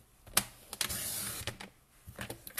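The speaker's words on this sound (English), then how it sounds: "I'm just going to line this up in my trimmer" Paper trimmer slicing through card stock during handmade card making, heard as a few short, sharp scraping cuts and clicks at close range, with quiet pauses between strokes and no talking.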